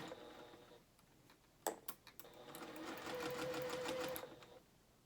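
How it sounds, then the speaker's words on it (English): A sewing machine runs gathering stitches along ruffled fabric for a dress, starting with a few sharp clicks and then whirring steadily for about two seconds before stopping, fairly quiet and close. "You can see it start to gather the stitches."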